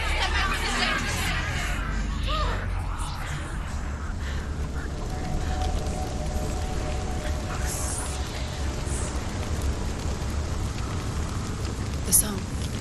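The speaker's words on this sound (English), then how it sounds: "The rain sounds awesome." Steady rain falls in the video game Hellblade: Senua's Sacrifice, a constant hiss of rain on surfaces with a low rumble and a soft sharp knock near the end, while whispering voices murmur throughout.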